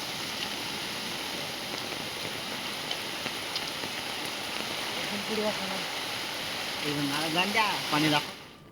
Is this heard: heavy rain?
yes